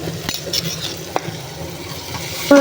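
Potato masala with turmeric being sautéed in a pan: a soft, steady sizzle with scraping stir strokes and a few light metallic clinks, close and fairly quiet.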